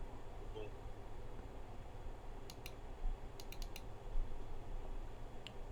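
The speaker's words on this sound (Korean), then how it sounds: "여기 제가 잠깐만 마우스 누를게요" Several quick, faint clicks in a quiet room, a short cluster of sharp taps like a mouse button being pressed repeatedly.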